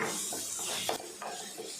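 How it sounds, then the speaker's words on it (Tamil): Soft scraping and light clinks of a utensil stirring chili powder into vegetables in a pan, close and continuous under a steady background hiss. "தனி மிளகாய் தூள் சேர்த்துட்டு நல்லா கலந்து விட்டுடலாம்"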